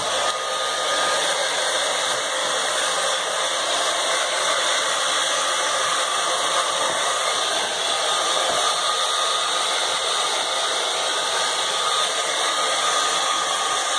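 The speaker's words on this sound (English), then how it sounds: "And then I just use my hair dryer on the low. You're not going to be able to hear me because this is loud" Hair dryer on its low setting drying ferrets after a bath, a loud, steady close-up whoosh of blowing air with a constant motor whine running unbroken throughout, alone without talk.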